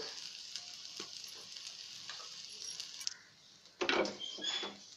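Ginger garlic paste and spices sizzling in hot oil in a pan for a stuffed idli filling, a steady close frying hiss with a louder crackling burst near the end and no talking.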